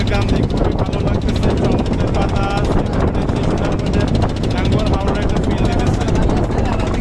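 A trawler boat's engine chugs on the Meghna river near Narsingdi, a loud, continuous throbbing drone with wind and water noise, and voices faintly mixed underneath.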